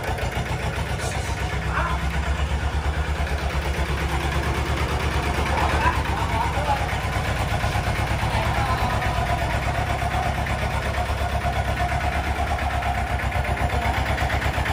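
A Mitsubishi 2500 engine runs steadily at idle, loud and close, with an even mechanical chatter that holds unchanged for about fifteen seconds.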